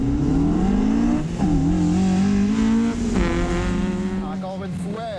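A Mazda Miata and a Camaro accelerate hard off a drag-race start line, engines rising in pitch through gear changes with loud revving and tire noise, while a voice talks over the roar.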